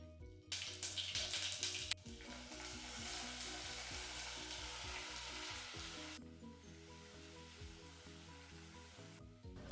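Pumpkin pieces hit a hot pan and fry with a loud, steady sizzle, a few stirring scrapes and clinks punctuating the crackle as it settles into continuous frying.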